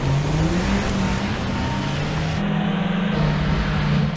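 An SUV engine (a Lada Niva, Jimny or Duster) revs hard while accelerating on an uphill race climb, pitch rising steadily and stepping down at a gear change, loud, close and continuous.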